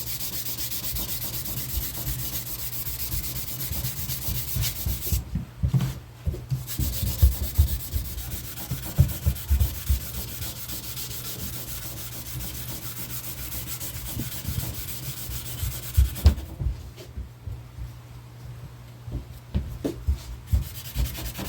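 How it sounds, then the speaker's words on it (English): A rounded-off cork sanding block rubs over a firearm's surface, working into small crevices and pits in a steady scratchy rhythm with brief pauses, close and continuous. "My cork sander's rounded off, it fits right up in there."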